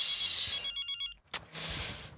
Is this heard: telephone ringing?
yes